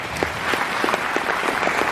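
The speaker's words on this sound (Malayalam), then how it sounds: "കൈയടിക്കണം" An audience claps steadily at a business opportunity presentation for RCM, with dense, even applause and a few sharper claps standing out, no talk over it.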